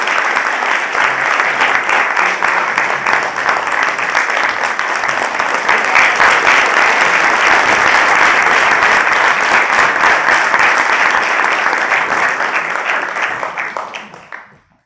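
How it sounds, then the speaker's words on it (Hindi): Audience applause filling a hall at the close of the stage play Ashtavkra, a dense, steady wash of clapping that holds loud for about thirteen seconds before quickly dying away. "जोरदार तालियों से उनका स्वागत कीजिए"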